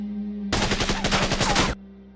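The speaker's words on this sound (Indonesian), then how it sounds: "Di sanalah Hendrik melihat kembali wanita itu dan langsung menembakinya." Rapid automatic gunfire bursts loudly in a film shootout between special forces and mafia, a dense rattling volley lasting just over a second before cutting off to quiet.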